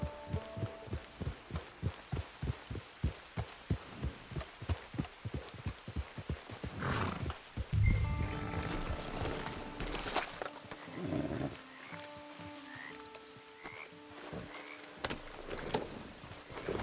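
Steady rhythmic clip-clop of horse hooves in Red Dead Redemption 2 trots along for several seconds, then gives way to game ambience with rumbles, tonal cues and music-like tones.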